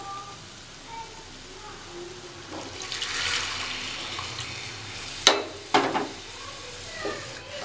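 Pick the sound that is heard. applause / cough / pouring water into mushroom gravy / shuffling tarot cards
pouring water into mushroom gravy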